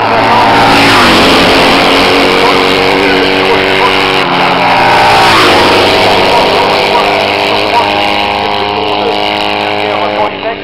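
Classic 750 racing motorcycles scream past on the Chimay road circuit, engines loud and close with sustained high revving and shifting pitch as they pass, a continuous roar throughout.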